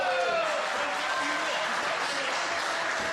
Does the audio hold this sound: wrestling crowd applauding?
yes